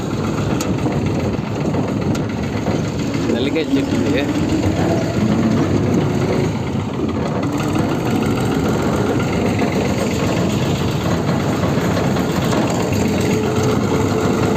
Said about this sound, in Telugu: టెంగల్కి అయితే వెళ్తా ఉన్నామండి ట్రాక్టర్లో